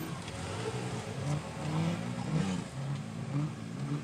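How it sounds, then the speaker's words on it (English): A Can-Am off-road vehicle slides sideways down a hill, its engine droning and wavering in pitch with rises and falls in revs, heard at moderate distance. "So that Can-Am is literally just sliding down the hill there sideways."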